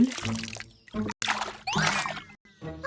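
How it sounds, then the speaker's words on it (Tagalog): Cartoon water gushes from a garden hose into a children's pool in bursts, with splashy pouring and trickling broken by short pauses. "Ngayon ay maaari nang magsali ng tubig si Dolly sa pool."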